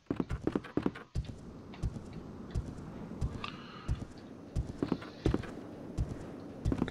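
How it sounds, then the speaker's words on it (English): Heavy stomping footsteps of a pursuer in the video game Resident Evil 2 thud at a steady, regular pace, moderately close, over a faint background ambience with occasional brief higher-pitched game noises. "Oh, I hate that you can hear him stomping."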